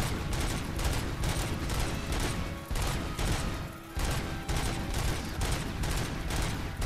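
Dense, rapid gunfire from the RoboCop: Rogue City video game, with loud bursts of shots overlapping almost continuously with brief dips, and no talking over it.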